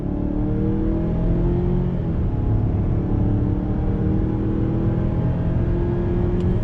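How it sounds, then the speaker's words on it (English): A 2021 Mazda CX-9 Signature SUV in automatic mode accelerates from a slow roll. The engine drone is steady and close, with its pitch climbing through gear changes, and no talking. "let's do another acceleration from a slow roll. I'm gonna leave it in automatic mode."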